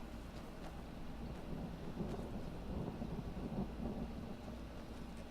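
In the game Skyrim, a storm sets a low, rolling rumble of thunder over steady rain, with the deep grumble swelling and easing throughout and no voices.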